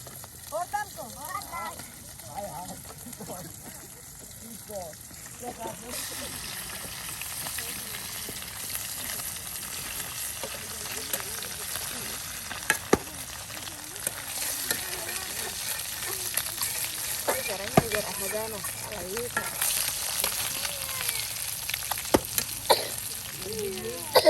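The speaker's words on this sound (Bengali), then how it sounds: "একদম চুবু চুবু ডুবু তেলেই কিন্তু প্রায় মাছ ভেজে নেওয়া হচ্ছে" Tilapia fish deep-frying in plenty of oil, a steady crackling sizzle running under a person talking throughout, with occasional sharper pops and clinks.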